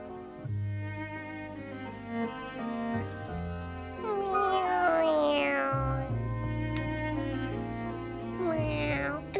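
An animated cat meows, its drawn-out, pitch-bending calls rising and falling over a soft orchestral music bed.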